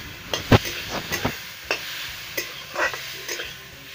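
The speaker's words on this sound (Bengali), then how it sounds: "তো সেগুলো দিয়ে এখন চাটনি হচ্ছে" Fruit and strawberry chutney cooking in a pan, with a soft steady sizzle broken by a series of sharp stirring scrapes and clacks at an uneven rhythm, close and fairly quiet, with no talking.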